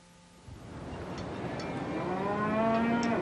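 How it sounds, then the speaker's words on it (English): Cattle moo loudly and steadily at close range, one long drawn-out call after another, alongside sheep on trailers packed onto the cargo deck of the Puerto Eden ferry bound for Chiloé, Chile. "Sheep and cattle are squeezed onto trailers that are themselves squeezed onto the cargo decks."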